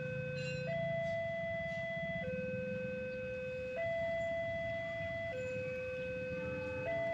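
An Indonesian passenger train on a straight stretch of track sounds its horn signal: a loud, steady two-tone blast that alternates between a lower and a higher pitch every second or so, repeating without pause.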